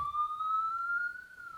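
STL Mega 100 watt siren on manual wail, a single clear electronic tone gliding slowly upward and holding, moderately loud and alone with no other sounds.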